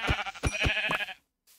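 Sheep in the video game Minecraft bleat in a quick run of wavering, harmonic-rich calls, loud and close, then fall silent near the end.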